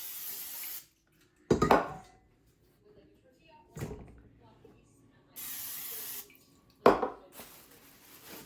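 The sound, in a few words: spraying the bowl with spray before letting dough rise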